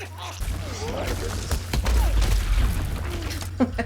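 Gunfire from a violent western film, with booming shots and impacts that send up smoke and splinters, heard as a dense run of crashes under a low rumbling score.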